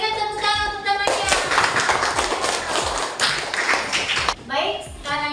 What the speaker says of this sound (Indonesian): Ayo berikan tepuk tangan untuk temannya